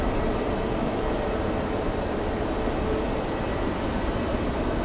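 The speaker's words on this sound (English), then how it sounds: "Turn our attentions over here to United and their departure." A United Airlines Boeing 737 MAX departs in rain at Raleigh-Durham airport, its jet engines a steady broad roar heard from a distance over the hiss of rainfall, with no voices.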